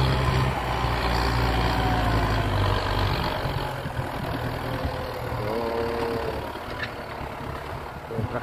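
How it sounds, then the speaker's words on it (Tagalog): A rented tractor's engine runs steadily on a rice farm, a continuous mid-low mechanical drone with a faint tonal whine that holds at constant volume throughout, fairly close, with no talk over it. "Traktora na inupahan ko"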